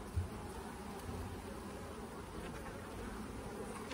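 Honeybees building wax comb in open space hum continuously, a faint, even buzzing drone with a few nearer passes and no talking.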